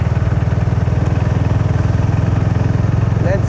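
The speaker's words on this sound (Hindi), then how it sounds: "अपने राइडर्स यहाँ पे न्यू बाइक है, देख लो ड्यूक 200" A KTM Duke 200 motorcycle engine runs with a steady, close, rapid thumping pulse, loud and even throughout, with a brief faint chirp near the end.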